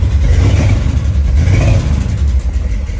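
A car engine, left sitting with condensation for about five years and suspected of a bad lifter, runs loud and close, rising in two revs over a rough, clattering idle with no talk.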